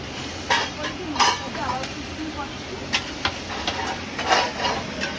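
Onions with turmeric are sautéed in a pan, giving a continuous low sizzle broken by irregular scraping knocks of a spoon stirring, close by, with a voice speaking in the background.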